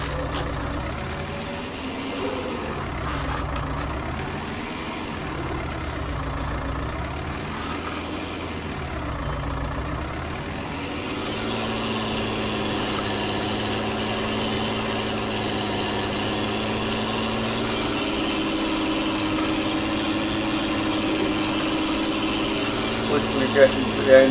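An old TW 35 tractor engine runs while ploughing a field, a steady droning hum whose pitch wavers and then settles into a constant, louder tone, with a voice talking over it.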